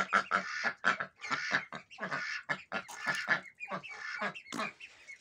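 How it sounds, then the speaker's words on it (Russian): Ducks in a pen quack repeatedly and loudly at close range, a rapid series of raspy calls with short gaps between them. "Крякает, кряк."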